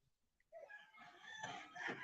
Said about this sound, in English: Our music is in the morning is the rooster.